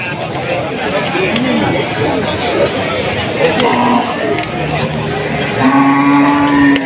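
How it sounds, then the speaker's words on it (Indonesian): Cattle low at a busy livestock market in Tuban, East Java, beneath constant crowd chatter, with a drawn-out moo rising near the end. "Banyak sapi geringan di sini."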